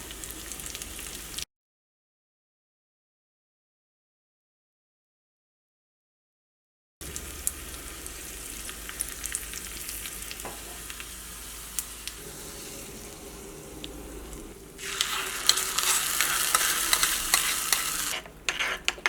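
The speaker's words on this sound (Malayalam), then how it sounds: "ഫസ്റ്റ് നമുക്ക് കടുക് പൊട്ടിക്കാം" Mustard seeds, dried red chillies and onion temper in hot coconut oil for a chutney: a short burst of sizzle, a silent gap, then crackling, popping frying that swells louder and brighter toward the end.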